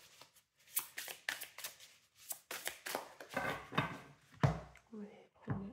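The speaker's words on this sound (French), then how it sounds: "On va bien les mélanger." Oracle cards being shuffled by hand, a run of quick papery riffles and slaps in short bursts at close range, with a voice speaking briefly in between.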